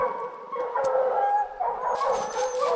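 Hunting hounds barking and yipping close by at a bear treed in the Virginia woods, a steady chorus of overlapping barks and whines with no talk.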